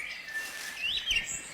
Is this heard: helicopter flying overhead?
no